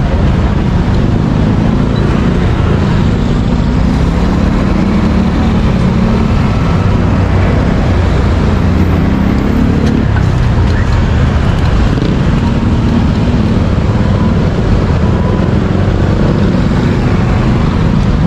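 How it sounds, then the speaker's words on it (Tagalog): Road traffic noise in a busy Philippine street: a loud, continuous wash of engines and rumbling vehicles with no breaks, crowd-like murmur mixed in. "Medyo traffic ngayon dito."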